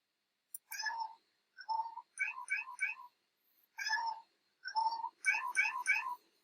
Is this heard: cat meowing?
yes